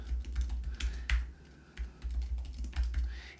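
Typing on a computer keyboard comes through as close, clear bursts of key clicks with uneven rhythm and short pauses, heard alone.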